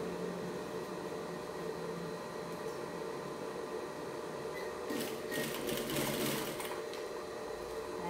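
Sewing machine stitching piping onto a zippered cosmetic pouch, a steady close mechanical whir with a brief faster burst of needle clatter partway through, no talking.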